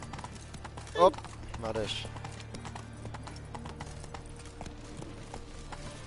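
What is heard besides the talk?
horse Roach's hooves in The Witcher video game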